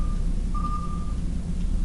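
Radar contact pings in the space game Starfarer: a steady high electronic tone that sounds once briefly, then holds longer, over a constant low engine rumble.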